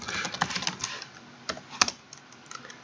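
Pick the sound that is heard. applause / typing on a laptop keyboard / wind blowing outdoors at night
typing on a laptop keyboard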